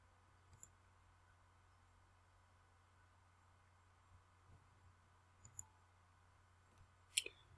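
A computer mouse gives a few sparse, faint clicks, isolated taps spaced seconds apart over a quiet background hum, with the sharpest click near the end.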